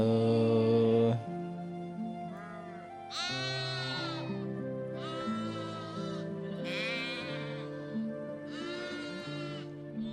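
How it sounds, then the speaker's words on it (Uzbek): Sheep bleating loudly several times in a row on a mountain pasture, wavering calls close by, with a steady musical tone running underneath throughout. "Go'zal bir qo'ylarga"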